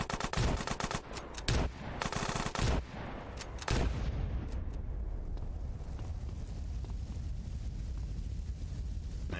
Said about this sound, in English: Might as well use the shotgun.